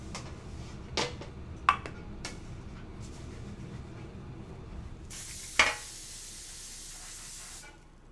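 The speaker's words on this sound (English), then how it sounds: "Let's give it a little spray with some cooking oil." Cooking oil sprays from a can in one sustained hiss of a few seconds, preceded by several sharp clicks and taps nearby, with no talk.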